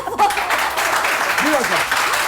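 Studio audience on a morning TV show claps in a brief burst as a voice carries on talking over the applause.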